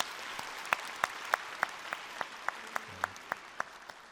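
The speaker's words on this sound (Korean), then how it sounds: "다시 한번 박수 보내주십시오." A church congregation at a Friday night worship service claps for a long-married couple, the claps faint and evenly spaced in a steady rhythmic beat that runs through the whole stretch.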